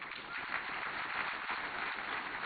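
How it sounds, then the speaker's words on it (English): Applause from a conference audience for a senator at the 2025 Devolution Conference in Homa Bay County, a dense, steady wash of many hands clapping together throughout, moderately loud and continuous with no pauses. "Another round of applause for Senator Kajika."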